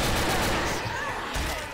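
Dense, continuous gunfire from Left 4 Dead 2 versus mode at the Parish, rapid overlapping shots forming a loud rattling barrage that fills the whole moment, with voices mixed underneath.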